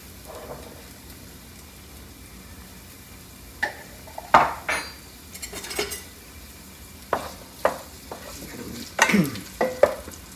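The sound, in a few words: tomatoes and onions sizzling in hot oil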